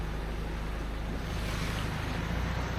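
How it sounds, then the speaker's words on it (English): The Wilberforce River near Christchurch rushes in strong flow through a valley, a steady, full-bodied roar of water that stays loud and unbroken throughout, with no voices. "there was quite a lot of flow and quite a lot of water heading through there"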